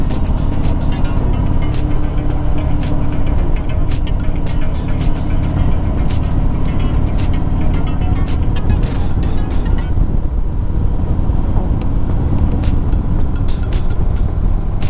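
A motorcycle is ridden hard through the corners of Needles Highway, with a loud, steady roar of engine and wind that runs without a break and with no talking.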